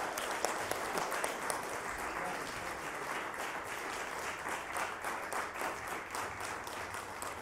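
Audience clapping at a Nasdaq opening bell ceremony, a steady round of applause from a sizable crowd that carries on evenly for several seconds.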